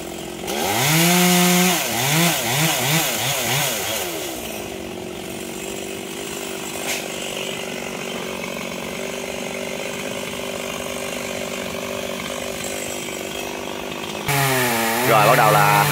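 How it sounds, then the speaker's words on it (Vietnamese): A chainsaw cuts a star apple tree branch into firewood, revving up and down in rhythmic pulses, then holding a steady loud drone through the cut before revving again at the end. "Tột xuống để cưa khúc khúc xuống, cưa thành củi luôn nha các bạn."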